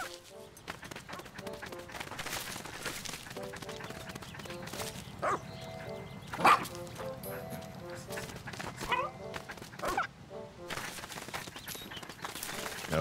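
A big dog barks and yips in the video game Pikmin 4, short repeated barks over steady game music and ambience, with someone talking throughout.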